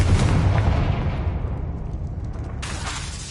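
Confringo fire spell blast in Hogwarts Legacy: a loud, booming explosive burst that rumbles and slowly fades, followed by a brief crackling flare near the end.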